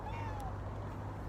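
A domestic cat gives one faint, drawn-out meow at a live outdoor animal event in a garden, heard over steady background noise and hum.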